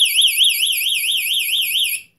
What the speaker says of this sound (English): It's gonna sound a pretty loud alarm.